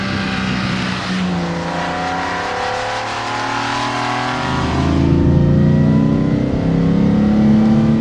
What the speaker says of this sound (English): The transmission is a 4-speed straight cut gearbox, so it creates a tractor-like sound, if you will.